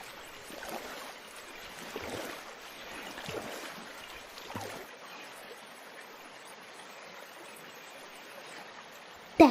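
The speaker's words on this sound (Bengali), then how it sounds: "অনেক নৌকাতে চড়ে ঘোরা হয়েছে" A cartoon boat glides across a pond, with a faint, continuous wash of water and soft paddling splashes in a gently rising and falling rhythm.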